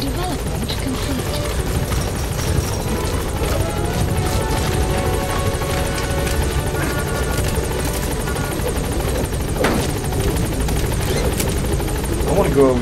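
A steady support helicopter rotor drone in Metal Gear Solid V: The Phantom Pain fills the whole stretch, loud and constant, with faint game-like tones layered on top.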